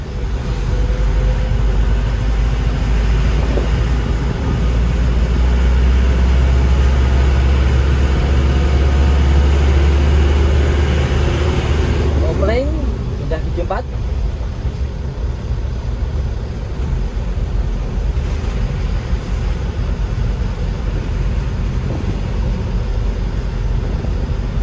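Isuzu Elf short truck engine pulling in third gear, a steady loud diesel drone with a low rumble that eases and shifts partway through, no talking.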